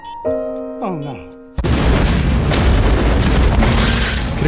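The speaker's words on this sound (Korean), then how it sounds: "그렇게 조그는 비행선과 함께 폭발하고 코벤의 일행은 겨우 탈출하는 데 성공합니다" A loud explosion from the film The Fifth Element, in which an airship blows up, bursts in after a short run of sliding musical tones and then rumbles on as a sustained, heavy roar.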